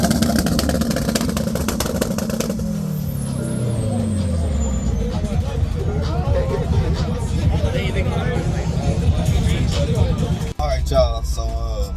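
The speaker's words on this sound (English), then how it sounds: "I got to smoke some tires out here." A car engine revs hard for a tire burnout at a street car meet, a loud continuous roar rising and falling, with crowd babble and talk around it.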